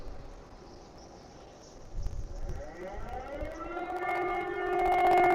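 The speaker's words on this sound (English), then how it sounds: "And now we're hearing sirens." An air raid siren in Ukraine rises out of a low rumble and swells into a loud, sustained wail that keeps growing toward the end.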